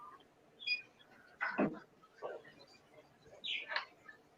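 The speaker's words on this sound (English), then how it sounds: "You'll probably hear the bird go off his chops in a minute." A bird gives several short, faint chirps and calls spaced out over a few seconds against a quiet indoor background.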